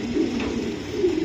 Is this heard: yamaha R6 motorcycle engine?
no